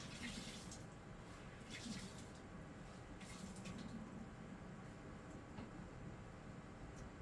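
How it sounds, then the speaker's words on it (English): Cold tap water runs steadily while a cloth is rinsed under it, a continuous splashing wash with brief louder splashes, close and fairly quiet, no voices. "I just rinse in some cold water"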